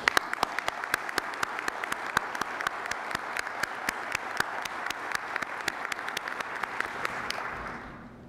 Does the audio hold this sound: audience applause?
yes